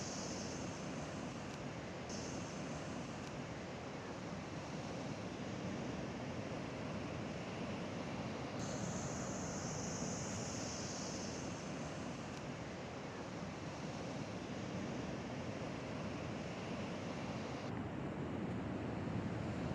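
Ocean surf at Avila Beach, where a creek watershed meets the sea: a continuous, loud wash of breaking waves mixed with wind buffeting the microphone, steady throughout with no voices.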